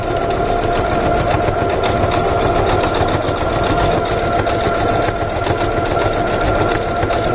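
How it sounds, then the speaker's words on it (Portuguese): A sewing machine stitches a fabric bag with a steady, rapid mechanical whir and clatter, running continuously close by, including backstitching at the seam. "no início e no fim da minha costura eu faço o retrocesso aqui"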